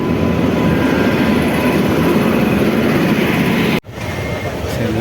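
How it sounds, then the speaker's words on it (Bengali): A train pulling into a station in Assam, a loud continuous rumble and roar filling the space close by, broken by a sudden sharp cut near the end before the rumble resumes slightly lower. "আমাদের ট্রেন ঢুকে পড়লো ওই মাত্র"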